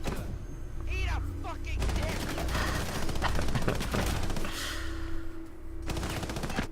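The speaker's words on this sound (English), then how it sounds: "Michael's gonna win that firefight." A firefight in a video game, with a light machine gun among the weapons, sounds as loud rapid bursts of automatic gunfire, some overlapping and some with short pauses, while a voice talks over them.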